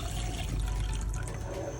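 Water pours steadily into a pan of flour roasting on the stove, a soft continuous splashing and gurgling with no talk.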